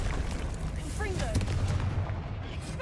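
Confringo blasting spell explosions in the Hogwarts Legacy video game: a dense, rumbling burst of booming impacts with sharp cracks and whooshing tones, layered over a steady low game soundtrack.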